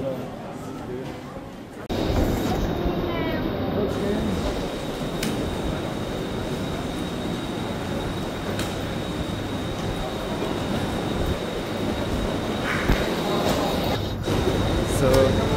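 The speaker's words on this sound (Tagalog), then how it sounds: "It's a train." Eurostar train running from Paris to London, a steady rumbling roar of wheels and carriage noise that starts abruptly and continues close and loud throughout, with faint voices underneath.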